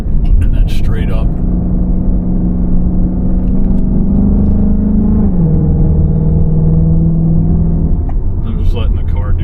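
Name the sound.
car engine driving up a mountain highway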